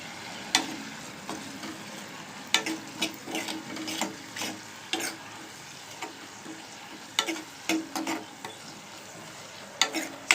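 Taro root pieces fry in a pan while being stirred, a soft continuous sizzle broken by repeated close scraping strokes of the spatula in an irregular rhythm throughout.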